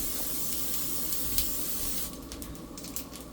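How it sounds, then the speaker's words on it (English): A steady hiss of spray onto food in a hot pan, with a brief sharper burst partway through over a background sizzle. "Then what I'm going to do is spray on top."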